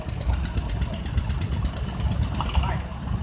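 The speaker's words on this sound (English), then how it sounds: "So the Ford 4000 now, what a beautifully turned out tractor this one is." A restored Ford 4000 tractor runs in a show arena parade, its engine chugging with a steady low throb and regular pulses, heard fairly close amid outdoor background noise.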